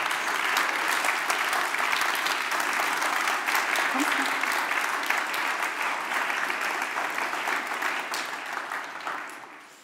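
Conference audience at a Bavarian digital summit gives Janis McDavid sustained applause, dense even clapping from a large crowd that gradually tapers and fades toward the end, with a brief voice underneath midway.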